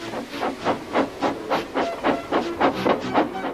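A toy wooden-railway steam engine puffs out steam in a quick regular rhythm of hissing bursts, about a dozen chuffs, close and moderately loud with no talking.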